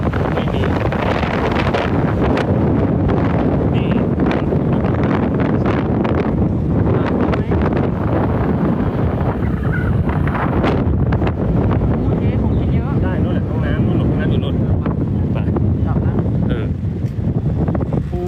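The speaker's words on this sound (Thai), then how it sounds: "ลมเย็น" Cool seaside wind buffets the microphone in a constant loud rush for the whole stretch, with a brief voice or two surfacing faintly beneath the roar.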